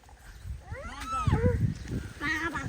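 A cat at a village home gives a couple of drawn-out meows, loud and close, the calls rising and falling over about two seconds, with faint background sounds.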